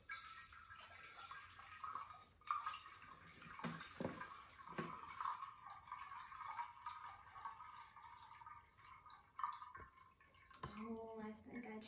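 Water pours into a container during a classroom math lesson, a soft trickling and dripping that rises and falls in bursts and ends with a few higher, hollow filling notes. Voices talk faintly in the background.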